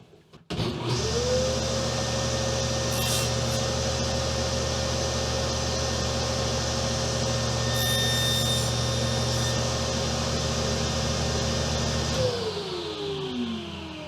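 A motorized saw spins up and cuts steadily through a wood piece set against the fence, a loud sustained whine holding for about eleven seconds before winding down.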